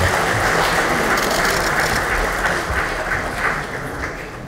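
Lawmakers at a party workshop for the regular National Assembly session give sustained, loud applause that fills the room evenly for several seconds.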